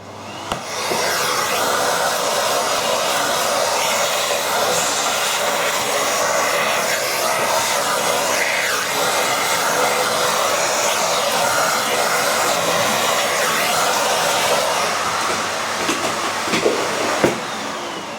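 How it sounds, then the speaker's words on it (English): A vacuum cleaner runs steadily and loudly for the full length, cleaning the DVD drive of an original Xbox, with only small clicks and knocks near the end. "Alright, so now vacuum cleaning time."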